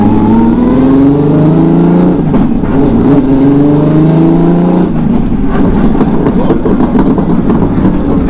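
A turbocharged Volkswagen R36 hot hatch engine revs hard and loud up close, its pitch climbing and falling through repeated throttle blips, then breaking into crackling overrun as the revs drop, with no voices over it.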